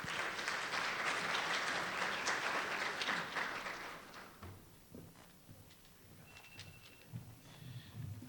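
Applause from an audience at a school support staff awards evening welcomes Richard Wright, a dense burst of clapping that fades after about four seconds into quieter room noise with scattered knocks.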